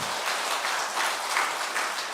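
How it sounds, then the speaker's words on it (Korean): Church congregation applauding during a Sunday service in Gyeongju, a steady wash of many hands clapping at once, fairly even and sustained throughout, with no distinct voices on top. "그렇게 일하실 하나님께 우리 영광의 박수 올려드립니다"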